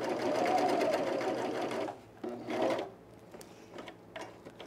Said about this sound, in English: this time I'm gonna do both top and bottom with a nice, neat serging